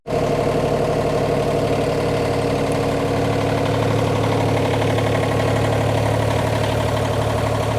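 A John Deere 2210 tractor engine idles on a cold start, a steady, close diesel rumble with even vibration and no break from start to finish.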